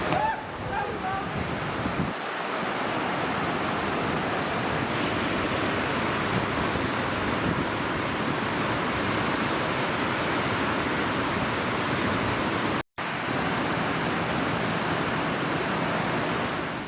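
Colorado River rapids rushing past a riverside campsite, a dense, continuous roar of churning whitewater, loud and close, with a faint shift in tone partway through and a momentary dropout near the end.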